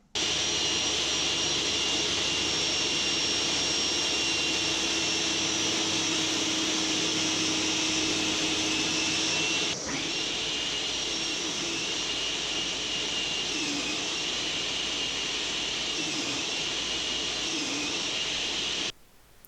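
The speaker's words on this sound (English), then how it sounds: "Hopefully this will now fit in my planer." A thickness planer runs on an end-grain cutting board, a loud, steady, high-pitched roar that holds unbroken for nearly twenty seconds and shifts tone briefly midway before cutting off at the end.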